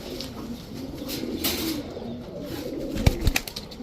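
Pigeons of high-flyer and racer breeds cooing close by, soft steady coos with some sharp knocks and rustling near the end, with no talking.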